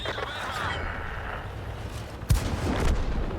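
A tank cannon fires in World of Tanks with a single sharp, loud boom that rumbles briefly afterward, set against a steady bed of engine and battle noise.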